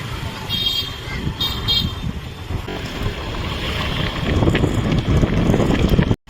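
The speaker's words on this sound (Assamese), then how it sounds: "দেখিছে স্কুটিত আমি দুজন গৈ আছোঁ" Strong wind buffeting the microphone while two people ride a scooter along a road outdoors, a steady rushing roar that swells near the end before cutting off abruptly.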